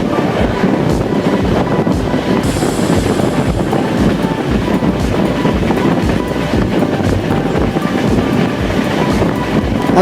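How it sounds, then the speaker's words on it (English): Riding aboard the Chennai Shatabdi hauled by a WAP7 electric locomotive at over 110 km/h, a loud continuous rumble with rapid wheel clatter and wind roar fills the whole stretch. "The loco pilot is doing a steady 110 plus."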